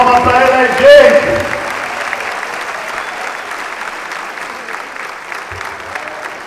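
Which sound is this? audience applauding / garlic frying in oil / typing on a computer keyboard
audience applauding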